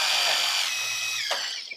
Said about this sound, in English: a fast drill bit and low pressure kind of melts its way through